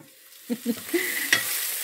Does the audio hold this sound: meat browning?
yes